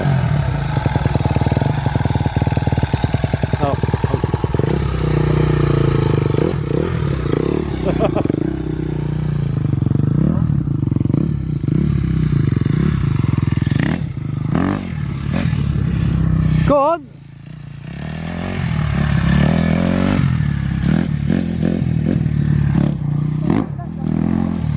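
A motorcycle is started and ridden, its engine droning loudly and revving throughout, with a brief dip midway before it picks up again, while people talk over the noise.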